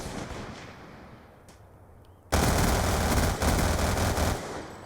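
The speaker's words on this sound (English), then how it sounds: "Two freaking snipers dumping a clip at me" Sniper fire in a Call of Duty match: after a stretch of quieter low background noise, a sudden loud barrage of shots erupts and continues densely for a couple of seconds before easing off.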